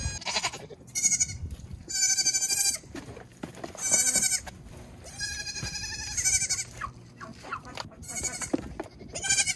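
Goats bleat repeatedly inside a converted old shed used as their shelter, several loud, wavering calls coming in bursts with short gaps, close by and overlapping at times.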